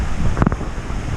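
Calm ocean waves on a New England beach, a close, windy rush of surf with a brief louder splash near the middle.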